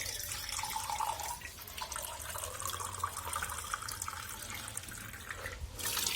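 Water runs steadily from a tap in a continuous hissing splash, fairly close, with no voices.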